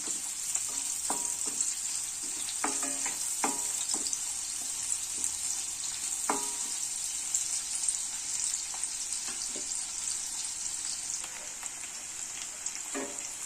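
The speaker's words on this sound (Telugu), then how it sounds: "ఆయిల్ వేడయ్యాక సన్నగా తరిగి పెట్టుకున్న ఉల్లిపాయ ముక్కలు వేసి వేసుకోవాలి" Chopped onion pieces fry in hot oil for a bottle gourd tamarind stew, giving a steady close sizzle throughout with scattered clicks and scrapes of stirring.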